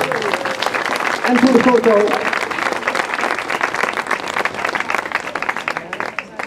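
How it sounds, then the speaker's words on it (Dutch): An audience in a Dutch hall breaks into sustained, dense applause that keeps steady for several seconds, with a voice speaking briefly over the clapping early on. "Nog één keertje een groot applaus."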